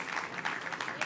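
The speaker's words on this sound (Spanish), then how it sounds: "Denle un aplauso fuerte al Rey bendito." Steady applause from a church congregation at a prophetic proclamation service, dense and continuous through the brief moment.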